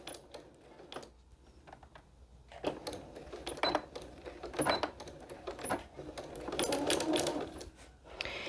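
A sewing machine back stitches fabric place mats in short, close, irregular bursts of mechanical clatter, with small clicks and handling noises between them and no talking.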